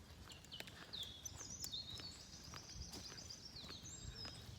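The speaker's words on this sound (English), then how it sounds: "All you can hear is the birds." Birds singing in a nature reserve, faint distant chirps and thin whistled phrases over quiet outdoor ambience with soft rustling or footsteps nearby.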